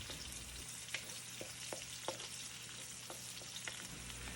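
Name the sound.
garlic and onion sautéing in oil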